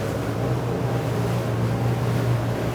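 A Nimbus W11 motor boat with a naturally aspirated 5.7-litre 10-cylinder V engine cruises at about 2,900 RPM, a steady, loud, low engine drone with water rushing against the hull, continuous and without talk.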